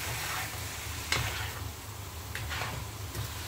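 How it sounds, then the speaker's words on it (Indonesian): Chicken tandoori pieces sizzle steadily in margarine in a pan while being stirred, a continuous close frying hiss with a few brief scraping knocks from the utensil, no voices. "ini diaduk-aduk ayamnya. Diaduk sama margarin tadi ya."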